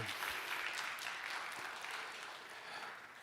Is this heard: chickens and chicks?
no